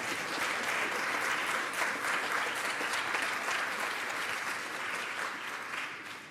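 Sustained applause from an audience at a keynote speech, a steady, full wash of clapping that tapers off toward the end.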